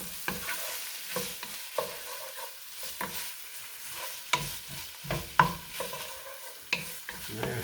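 Pre-cooked pasta being stirred in a pan to coat it, with soft sizzling underneath and repeated scraping, clacking strokes of a utensil against the pan at an irregular pace, close by.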